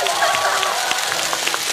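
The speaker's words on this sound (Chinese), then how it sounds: "来，掌声鼓励！" Audience applause at a Chinese variety show stage, a broad steady wash of clapping lasting throughout, fairly loud and close, with faint voices mixed in.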